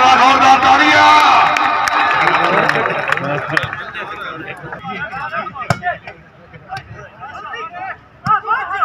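Loud crowd clapping and cheering at first, fading into a busy hubbub of voices with scattered claps and shouts.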